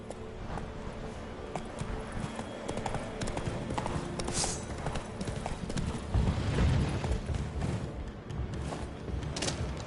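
Hooves of the horse Roach clip-clopping at a trot in a video game, a steady rhythmic patter with a few heavier thuds, continuous and fairly close throughout.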